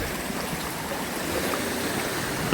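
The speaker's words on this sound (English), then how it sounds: "A little river flowing down there." A small river flows below a stone footbridge on a levada hiking trail in Madeira, a loud, continuous rushing wash of water close by, with no voices.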